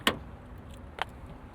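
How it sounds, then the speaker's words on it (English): Door locks on a 2009 Chevrolet Cobalt SS actuate from the key fob: two short, sharp clunks about a second apart, close by and alone over a quiet background. "Unlock button there on the key fob, that'll unlock the driver's door."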